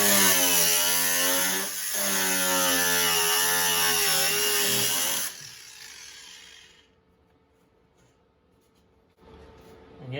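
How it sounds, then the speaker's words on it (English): An angle grinder, no guard fitted, slices through the car body metal of a Datsun S30 under restoration, a loud continuous high-pitched whine for about five seconds before the cut stops and the motor spins down into near silence. "I'm just going to slice it along a little bit further with the angle grinder."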